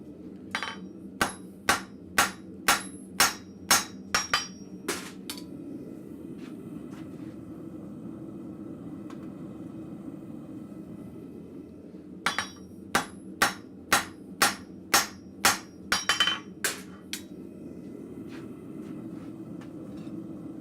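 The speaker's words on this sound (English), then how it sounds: "I'm just using a 2-pound cross-peen hammer on this." Blacksmith forging at Red Maple Forge with a 2-pound cross-peen hammer, two bursts of sharp ringing metallic strikes in quick rhythmic series separated by a quiet pause, over a faint low hum.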